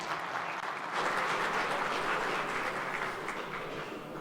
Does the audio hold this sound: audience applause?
yes